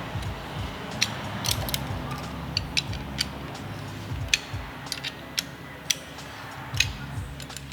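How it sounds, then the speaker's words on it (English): Allen bolts on car shocks are tightened with a ratcheting tool during prep of a Mustang S550 EcoBoost drift car, giving close, repeated ticking clicks over a low mechanical rumble. "Now we'll tighten these Allens back down."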